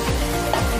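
Beef frying with spices gives a brief burst of loud sizzling, with a couple of scraping stirring sounds from a spatula moving through the pan.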